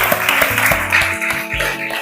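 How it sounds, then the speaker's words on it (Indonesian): A classroom group claps for itself, a brief burst of rapid, uneven hand claps that continues steadily for about two seconds with no talking. "Mari kita tepuk tangan untuk diri kita sendiri."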